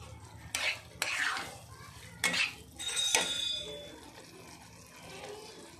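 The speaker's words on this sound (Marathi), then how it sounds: "हा आता सफेद रवा दिसतोय, तो भाजून लाल कलरचा होईपर्यंत छान असा भाजून घ्यायचा मंद गॅसवर" Semolina dry-roasting in a pan over a low flame for sheera prasad, a soft faint sizzle under a handful of sharp spoon knocks and scrapes against the pan, close by.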